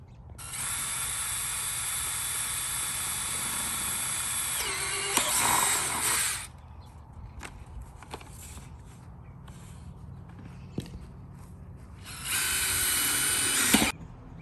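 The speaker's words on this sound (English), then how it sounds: "So after I got done drilling" A power drill drilling holes while installing a tailgate table on a truck whirs loudly in two long bursts, revving and slowing, with quieter clicks and handling noise between them.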